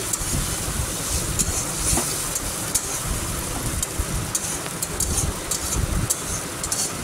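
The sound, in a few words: sautéing tomato, onion and ginger-garlic paste in a pan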